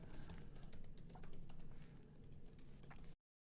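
Fingers type quickly on a computer keyboard, a close run of soft, rapid key clicks that ends abruptly in silence.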